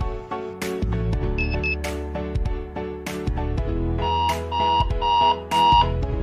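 Electronic quiz timer during a civil engineering quiz bee, giving short repeated beeps over steady background music and room noise, fairly loud and near.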